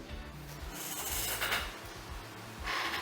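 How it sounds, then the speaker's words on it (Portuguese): Hot soldering iron tip rubbed back and forth across a crack in a plastic part of a 1996 Evinrude 8 hp outboard motor, giving a steady close scraping rasp with brief louder strokes. "Passando a ponta do ferro de solda para lá e para cá."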